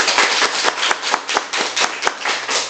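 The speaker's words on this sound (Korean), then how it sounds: "우리 선생님들에게 박수 한번 쳐주시겠습니까?" An audience claps for teachers at a school principal's retirement ceremony, brisk continuous clapping, close and loud, with a steady low hum underneath and no voices.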